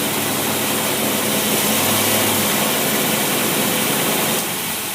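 A car engine fitted with an Edelbrock carburetor idles steadily in cold winter conditions, a continuous loud low rumble with a broad hissing roar over it and no voices.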